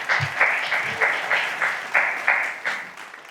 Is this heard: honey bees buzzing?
no